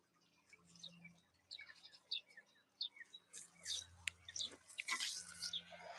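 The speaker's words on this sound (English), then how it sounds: "Little birds." Small pet birds chirp and tweet indoors in a series of quick, bright calls, fairly faint and close, with a low hum in the background.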